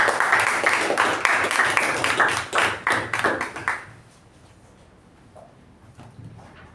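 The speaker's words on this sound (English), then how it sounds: "Please welcome Toastmaster Deepa Krishna Reddy with a huge round of applause" Audience applause at a Toastmasters club meeting welcoming a speaker, a dense burst of many hands clapping for about four seconds, then stopping abruptly into quiet room tone.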